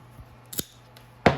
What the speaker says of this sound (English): Then I'll cut that excess off.